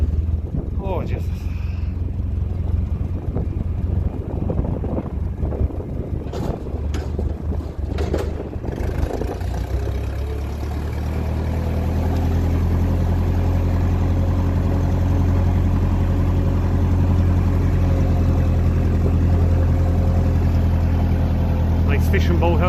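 A 1957 Ferguson 35 TVO vintage tractor's heavy engine rumbles steadily at close range, its low drone deepening and settling into a constant throb, with wind buffeting the microphone early on.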